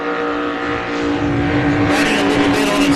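A racing powerboat in an Australian Super boat Series race at Geelong roars loudly, its engine a sustained, steady high-pitched drone that brightens and intensifies toward the end.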